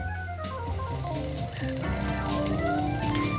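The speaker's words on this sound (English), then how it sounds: "what presently sounds in fact like an expensive noise in your teletube is merely the grasshopper warbler" A grasshopper warbler's steady, high, insect-like reeling trill runs unbroken throughout, with other birdsong and softer calls scattered underneath.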